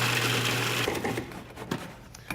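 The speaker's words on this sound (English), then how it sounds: "I'm going to pulse my walnuts" Food processor pulsing walnuts: a short motor whir with grinding chatter, then it stops and several quick bursts follow, close and moderately loud.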